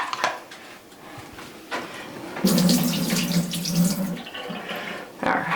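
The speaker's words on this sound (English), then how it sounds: "I'll empty some water out then." Water from a pot sloshes and splashes out in a loud, continuous pour lasting a couple of seconds, with brief knocks and clatters of the pot before and after.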